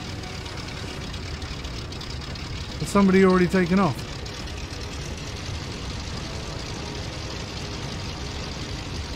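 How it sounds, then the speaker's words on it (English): SPAD biplane engines idle on the ground in the Rise of Flight flight simulator, a steady low rumble that runs throughout while someone speaks briefly over it. "Or are we just warming up engines?"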